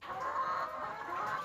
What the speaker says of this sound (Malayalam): കോഴികളാണ്. ഒരു 100 BV380 ഞങ്ങൾ വളർത്തുന്നുണ്ട്.